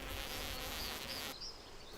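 An Ammophila wasp buzzes steadily while digging its burrow, a close, continuous insect drone that changes pitch briefly partway through.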